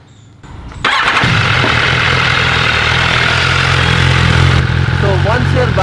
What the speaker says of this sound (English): right now it's idling, the engine is idling